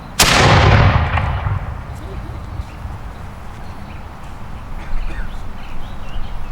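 A historical muzzle-loading cannon fires once at a militia fall muster, giving a loud sharp boom that rumbles away over several seconds, followed by faint outdoor crowd noise with people talking.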